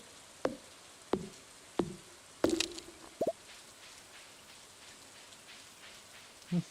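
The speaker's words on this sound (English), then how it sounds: "She did a really good job with the sound of this rain." Soft, steady rain falls in a farming video game, a faint hiss broken by several distinct, sharp drops landing close by, with no voices.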